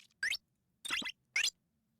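Three short, quiet item-use sound effects from a royalty-free game pack, each a brief bright rustling pop separated by silence.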